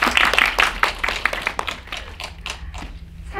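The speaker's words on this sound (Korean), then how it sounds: "큰 박수 한 번만 더 부탁드릴게요" A packed theater audience at a Korean film premiere Q&A for Dustman claps loudly at first, then the applause thins out into scattered, fading claps.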